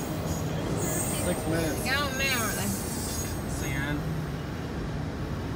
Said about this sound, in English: Do you hear them at that crossing? CSX. Norfolk Southern.